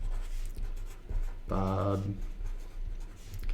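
A pencil scratches across paper in steady strokes close by, while someone briefly speaks over it partway through.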